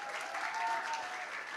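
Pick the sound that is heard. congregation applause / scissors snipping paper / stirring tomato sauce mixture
congregation applause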